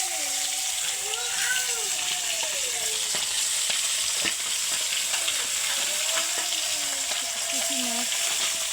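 Puti fish fry in hot oil in a wok, a loud, steady, hissing sizzle with a watery spatter that carries on without pause while a voice talks intermittently over it.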